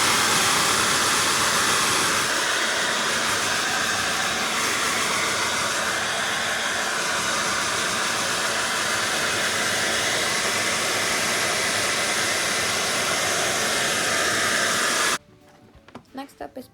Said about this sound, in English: so I want to blow dry them